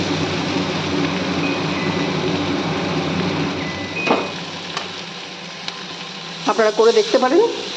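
Winter vegetables and river shrimp fry for a chorchori in a pan, giving a steady sizzling hiss with spatula scrapes, and a voice comes in briefly near the end.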